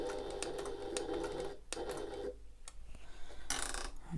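A domestic sewing machine runs in steady whirring bursts while stitching the corner of a canvas tote bag, pausing briefly between runs with a short higher rattle near the end; no one speaks.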